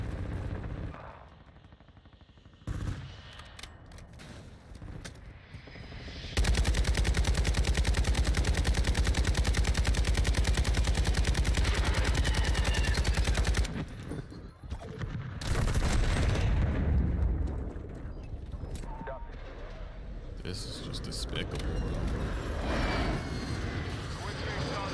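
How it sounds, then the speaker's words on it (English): Modern Warfare II multiplayer gunfire: sharp single shots, then a long loud sustained burst of automatic fire and heavy rolling blasts, close and dense, with players talking over it at times. "They're shooting at me."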